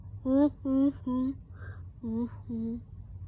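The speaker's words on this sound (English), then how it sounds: "When you hear his laugh it sounds like this." An animatronic character from the game Five Nights at Freddy's laughs: deep, rhythmic and mechanical-sounding, with five evenly spaced "ha" bursts and a brief breathy gap, synthetic and sinister in tone.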